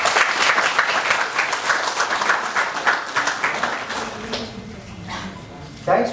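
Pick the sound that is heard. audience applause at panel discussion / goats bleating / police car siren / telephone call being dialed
audience applause at panel discussion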